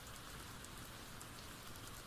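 Steady rain falls near a small forest cabin, a dense, even hiss of drops with no voices, constant and soft throughout.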